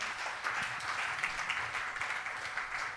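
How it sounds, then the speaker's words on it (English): An audience at a car media premiere for the new Toyota Vios GR-S applauds its panelists, a steady, even wash of clapping that holds at moderate level for the whole few seconds without a break. "Please give them a warm round of applause"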